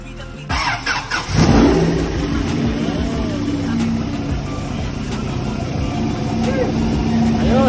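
A Honda drag car being cranked and started in a garage after a coolant refill, the engine catching and revving up loud and close, then settling into a rough rumbling idle with further revs.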